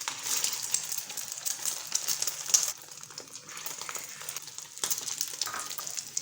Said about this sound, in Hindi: इसमें अच्छी तरह से दोनों तरफ से कोटिंग करेंगे और इसको फिर हम घी में फ्राई कर लेते हैं